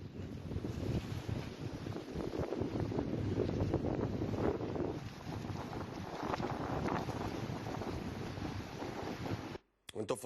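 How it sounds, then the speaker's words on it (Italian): Very strong wind roars and buffets the microphone continuously for about ten seconds, loud and rough, with a watery, boat-like rush beneath it and a brief dropout near the end. "Vento fortissimo, era Davide, grazie Davide per aver inviato,"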